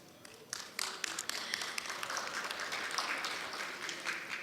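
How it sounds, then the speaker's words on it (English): A conference audience in Baku applauds at a session on Islamophobia, with faint, distant clapping that starts sparse and swells into a steady patter. "I think that particular point deserves applause for this country and its leadership"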